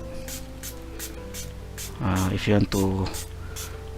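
A few short hissing bursts from a spray bottle misting an acrylic painting, three quick pumps in a row, with a person talking over steady background music.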